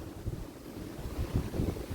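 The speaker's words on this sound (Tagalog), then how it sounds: "malakas ang hangin" Strong wind blows at a beach front on Siquijor island as a storm follows, a steady low rumbling buffet of gusts against the microphone with faint surf-like hiss and no talking.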